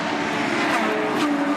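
A Corvette GT3 race car's engine roars past during an FIA GT3 race at Jarama, loud and continuous with a rising, shifting pitch over crowd and track ambience.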